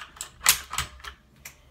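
Otemu blue switches on a Motospeed CK61 keyboard clicking sharply, about six crisp irregular clicks at close range, alone without talk.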